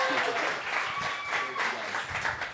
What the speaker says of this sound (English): And please give Matt a round of applause